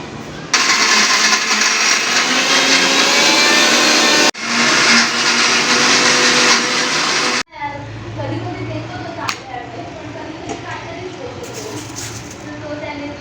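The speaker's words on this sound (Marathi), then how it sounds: "मिक्सर बाल्कनीतच घेऊन आली आहे बघा मिक्सर लावायला मोकळ्या हवेत" A mixer grinder roars loudly and steadily, stops briefly, restarts, then cuts off, leaving quieter room sounds and faint talk.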